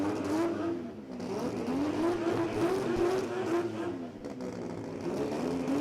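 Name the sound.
drag racing car burnout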